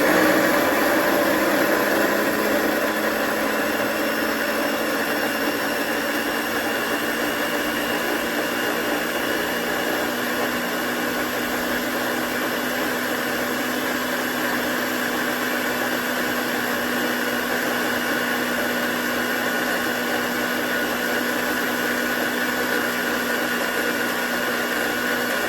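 A blender mixing eggs whirs in a loud, steady, continuous motor drone that holds an even pitch for the whole stretch, with no voices.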